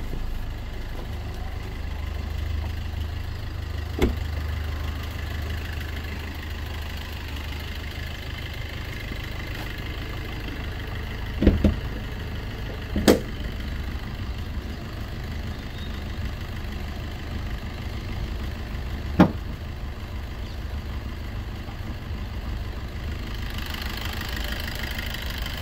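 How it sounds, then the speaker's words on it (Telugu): A 2018 Swift Dzire diesel car idles steadily with its bonnet open, a low continuous engine rumble with a few sharp clicks and knocks scattered through it and no talking. "ఇంజన్ బీటింగ్ అనేది శ్రద్ధగా వినండి."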